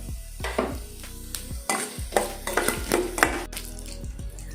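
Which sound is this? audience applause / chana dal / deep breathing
chana dal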